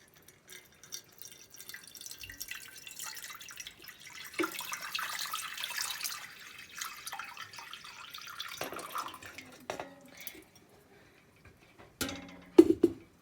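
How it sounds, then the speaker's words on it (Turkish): Water poured into a cooking pot over a stone and bowl for making rose water, a trickling, gurgling stream running for several seconds with small drips and a few clinks at the end. "şimdi suyumuzu döküyorum"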